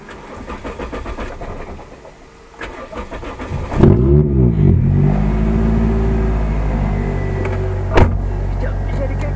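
A 2005 Toyota Vios with a 2ZZ engine and six-speed manual starts up and revs hard through a loud, raspy straight-flow exhaust, then holds a throaty idle with a sharp blip near the end.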